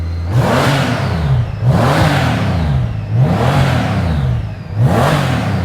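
A Honda Gold Wing F6B motorcycle engine revs up and down four times in a steady cycle, each surge rising and falling in pitch, loud and close.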